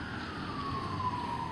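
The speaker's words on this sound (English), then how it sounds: "Those sirens are the Winter Springs Police Department also paying their respects." A police siren wails steadily at a distance over low traffic rumble during a police funeral procession, with no talking.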